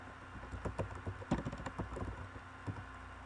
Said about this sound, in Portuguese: Vou digitar